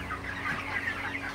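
Chickens in a poultry shed during very hot weather, a brief burst of moderate clucking over a steady low hum.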